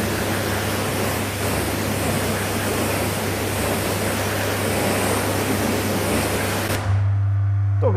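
Water rinses the wheels and brake calipers of a Hyundai i30N after a spray coating in a garage, a steady loud hiss of spray that stops abruptly near the end, leaving a low hum.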